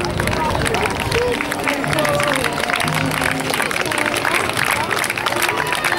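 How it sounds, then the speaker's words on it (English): A crowd cheers and claps near the finish of a running race in Bradley Stoke as a runner comes in, a steady dense wash of voices, clapping and speech babble close by and continuous throughout. "Come on, cheer him in."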